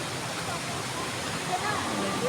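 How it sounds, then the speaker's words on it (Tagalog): Water running out from beneath the rocks of a mountainside on Mount Pamintingan in Montalban, Rizal, a steady broadband rush with no talk over it. "Ayan guys, may tubig lumabas."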